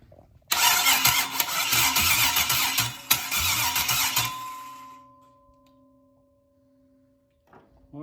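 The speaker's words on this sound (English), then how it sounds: "I am going to just try to jump it and see if it turns over." A 1977 Chevy C10 with an LS swap engine, jump-started, cranks loudly for several seconds at close range, then stops and trails off into quiet with faint ringing tones.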